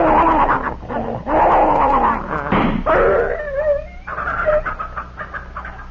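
In a 1940s radio crime drama, a dog whimpers and yelps in distress as it struggles, with strained, wavering cries rising and falling and brief pauses between them.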